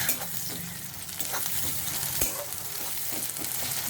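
Garlic, green chili and ginger paste sizzle steadily in hot oil for egg bharta, a continuous close crackle with occasional spoon scrapes against the pan.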